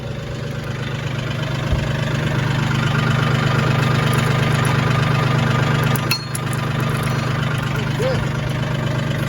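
A tractor engine runs steadily at a low idle after pulling a load out of a yard, its constant rumble close and loud, with brief voices over it.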